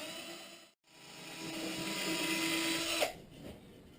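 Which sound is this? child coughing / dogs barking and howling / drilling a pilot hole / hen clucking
drilling a pilot hole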